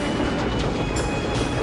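A Serbian army train rolls past on a neighbouring track in The Last Express, a steady loud rumble of wheels and carriages with a faint clickety-clack, filling the whole moment without any voices.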